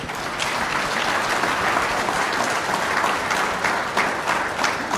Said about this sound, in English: let's give the panelists a big round of applause too